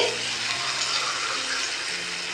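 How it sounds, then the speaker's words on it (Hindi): Water pours steadily into a pan of tomato masala for achari chicken, a continuous splashing rush close by, with no talking. "ये हाफ कप मैंने पानी डाला है।"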